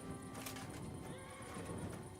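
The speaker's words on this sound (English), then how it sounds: "Yes, I hear horses." Horses whinny and neigh within a video game's medieval setting, a sustained layered wash of animal calls over ambient noise, fairly distant and steady throughout with no talk.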